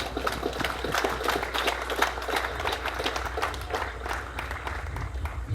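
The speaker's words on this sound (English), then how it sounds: "Let us give our graduates a warm round of applause." A crowd at a 2021 graduation ceremony applauds the graduates with steady, moderately loud clapping that holds throughout.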